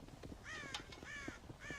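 Crows caw in Red Dead Redemption, two or three harsh, drawn-out calls close by over a low rustling background, with no talking.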